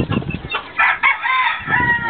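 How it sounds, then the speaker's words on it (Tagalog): Chickens and a rooster mix crowing and clucking in a coop with newly hatched chicks, close and fairly loud, with bursts of crowing rising over steady fowl chatter and no talking. "Kasi ito na yung mga sisiw na yung mga unang pisa mo."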